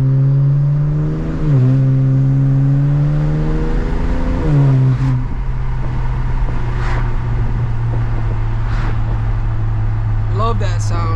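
A BMW 335i running on E85 accelerates along a back road, its engine rising through the revs, dropping at a shift, then climbing again in a steady loud drone heard from inside the car.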